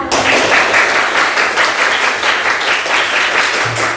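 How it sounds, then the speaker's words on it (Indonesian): A classroom of pupils claps together in dense, loud applause that holds steady for several seconds, then fades with a low hum at the end and no talk over it. "Kita berikan aplaus."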